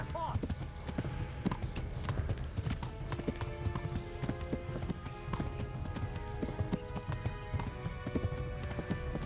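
Galloping horse hooves in the video game Kingdom Come pound in a fast steady rhythm throughout, with tonal game sounds layered over them and speech occasionally audible.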